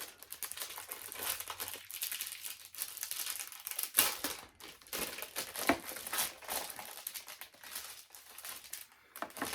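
Tape and packaging ripped off a cardboard comic box as part of an unboxing, a dense run of crinkling, crackling tears and rustles that keeps going with sharp bursts near and fairly loud.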